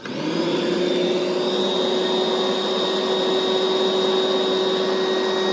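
An electric pump built into a CHILLSUN inflatable air mattress inflates it, giving a loud, steady motorized whine and airy rush that holds unchanged from start to finish, with no talking.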